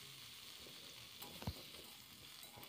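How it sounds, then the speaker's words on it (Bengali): Boiled onions frying in hot oil for peyaj koli vorta, a steady quiet sizzle with a faint stir or clink partway through, no voices. "পেঁয়াজগুলো যেগুলো আমি সেদ্ধ করে নিয়েছিলাম, সেই পেঁয়াজগুলি ওই তেলের মধ্যে আমি এবার ভেজে নেব।"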